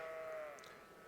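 A single clear sheep bleat in a video game, wavering and fairly close, then fading into a quiet background.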